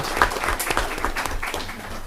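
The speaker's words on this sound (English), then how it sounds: "we need to give them a special applause because they do a fantastic job" An audience at a city council meeting in Hutchinson, Kansas, breaks into applause, a brief burst of scattered clapping at moderate distance with faint background murmur.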